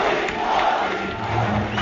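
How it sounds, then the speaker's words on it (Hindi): Crowd at Talkatora Stadium during a Bharat Swabhiman rally, chanting Narendra Modi's name; a dense, loud, continuous roar of many voices filling the hall. "मोदी मोदी के नारे लग रहे थे।"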